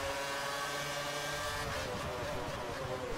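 A McLaren Formula 1 car in a racing video game roars at the race start in Spain, its engine a steady, loud, buzzing drone with shifting harmonics throughout.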